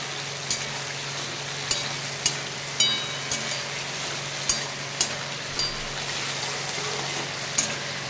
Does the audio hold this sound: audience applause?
no